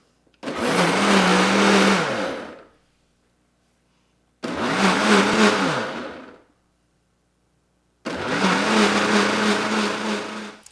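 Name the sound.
blender running on smoothie setting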